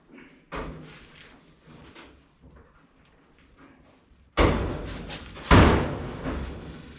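A car's passenger-side door with a misaligned striker and pillar thuds shut twice in close succession, two loud slams following softer handling noises near the mic.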